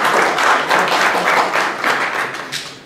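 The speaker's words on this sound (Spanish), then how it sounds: "Por favor, demos un aplauso de bienvenida al maestro José Paredes Rodríguez." Audience applause welcoming a speaker at a lecture, close and fairly loud clapping from a small crowd with a pulsing rhythm, slowly fading toward the end, with no voices.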